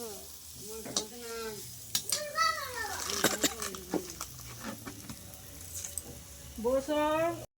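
Food sizzles and is stirred over a clay wood-fired stove in a village home in Medinipur, a steady frying hiss running under frequent nearby voices talking.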